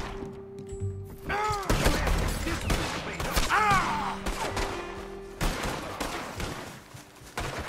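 Gunfire from a shootout in Red Dead Redemption 2, with repeated sharp shots and bursts scattered across the scene amid thuds and game noise, while a player talks over it.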